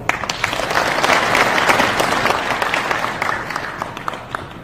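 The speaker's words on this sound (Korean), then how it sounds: "큰 박수 부탁드립니다" A seated audience applauds at a Korean foot volleyball association president's inauguration ceremony, a full round of clapping that swells and then tapers off into scattered claps.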